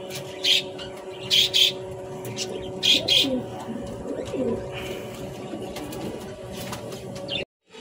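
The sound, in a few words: pigeons cooing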